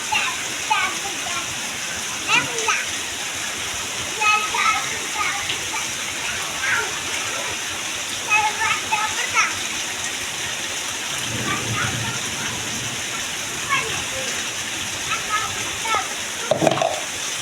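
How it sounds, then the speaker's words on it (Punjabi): Heavy rain pours down on a farm with crop fields in a dense, continuous hiss, with scattered patters and drips standing out, and faint voices speaking now and then underneath. "ਬਹੁਤ ਮੀਂਹ ਪਿਆ ਜੀ"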